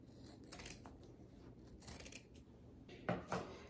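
Scissors slice down one side of a quilted comforter in a few quiet snipping bursts, soft and close, with faint fabric rustling between cuts.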